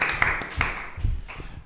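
Scattered hands clap at a sports-themed podcast as a guest is welcomed, a light burst of applause from a small group with irregular sharp claps over a brief span.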